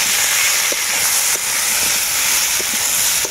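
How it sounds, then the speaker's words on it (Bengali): Spices with Kashmiri chilli powder frying in a pan for a drumstick and pumpkin dish, a loud, steady hissing sizzle with occasional soft clinks of stirring, close and continuous, without speech. "এরপর একসাথে মশলাগুলোকে খুব ভালো করে কষিয়ে নেব আমি।"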